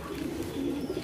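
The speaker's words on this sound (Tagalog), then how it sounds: "Ayan, marami tayong mga young birds dito." Pigeons in a breeding loft holding Detroit Pekka Cross young birds coo steadily in soft, continuous low murmurs close by, with no talking over them.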